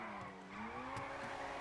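A BMW M4 drifting in the video game GTA, its tires squealing in a sustained, wavering screech over a steady engine drone, faint and without voices.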